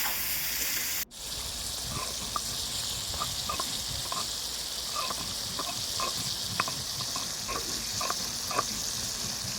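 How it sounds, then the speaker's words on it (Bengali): Mutton frying in a pan with ground spices, a dense steady sizzle with soft intermittent stirring clicks, close and continuous with no talking. "এবার একটু ভালো করে কষিয়ে নেবো।"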